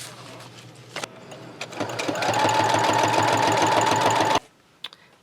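A sewing machine stitches a paper junk journal page in a fast, steady run of several seconds, with a few short starts before it and a clean stop, close and fairly loud.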